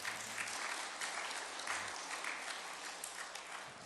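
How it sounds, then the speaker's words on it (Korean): A church congregation applauds its volunteers at a Sunday worship service, a dense, even wash of clapping from many hands that carries on steadily, with no one speaking over it. "우리 격려하시면서 우리 박수하시겠습니다"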